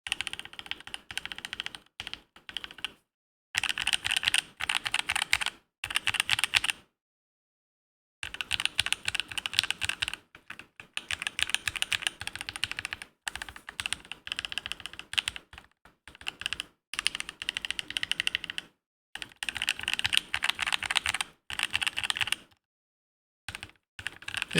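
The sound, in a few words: typing on an all-acrylic ortholinear keyboard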